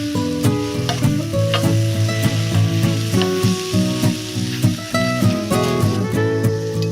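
Steak sears in a hot pan with a steady, close sizzle and crackle that runs without a break, joined by what may be mushrooms for a dish with braised escarole.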